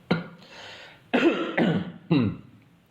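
Four raspy coughs from one person nearby, a single bark followed by three more in quick succession.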